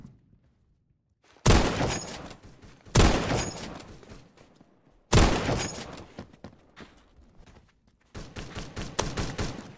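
Bursts of rapid gunfire from the video game Phantom Forces come in four loud volleys, separated by short quiet gaps.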